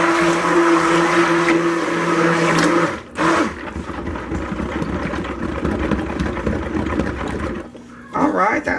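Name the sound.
mixing vanilla mocha coffee soap batter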